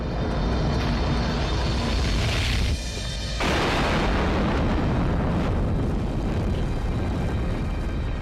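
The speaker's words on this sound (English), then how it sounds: "Combustion instability." A rocket engine blows up from combustion instability, a sustained loud roaring rumble that briefly drops away before another broad explosive blast surges back and keeps roaring.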